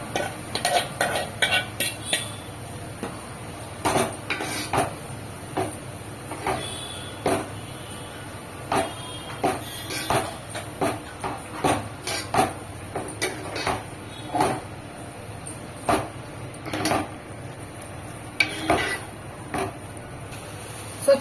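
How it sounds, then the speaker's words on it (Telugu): A spoon scrapes and knocks against a cooking pot while gongura paste is mixed into a simmering gravy, a steady run of close clinks and taps at an irregular rhythm over a low background hum. "నేను గోంగూర వేసేసుకొని మొత్తం అనేది కలిపేసుకున్నాను"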